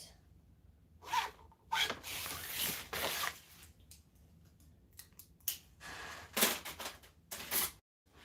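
Zipper pockets get handled while a wallet is assembled, giving bursts of zipping, rustling and sharp scraping in irregular spurts with quiet gaps between, close up and fairly loud.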